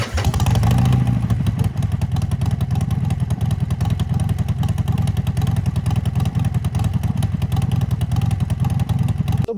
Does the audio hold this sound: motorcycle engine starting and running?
yes